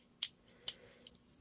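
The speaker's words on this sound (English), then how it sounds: "I believe these are Sunstar scissors." Sunstar scissors are handled in a few quick, sharp metallic snips and clicks, close and quiet, with no voices.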